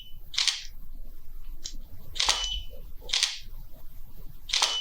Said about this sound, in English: We're firing both cameras at the same time and the flash, which is pretty good.